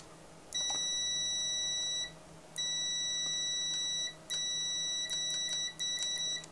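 An older Aneng digital multimeter sounds its continuity-test beep: four sustained, piercing electronic tones of a second or two each, loud and close, separated by short gaps, with no talk.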